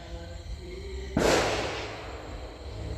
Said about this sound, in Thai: จุดประทัดแล้วจ้ะ